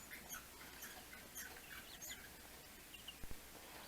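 Baby chicks in a brooder cheep in faint, scattered high peeps and chirps over a soft hiss, with no voices.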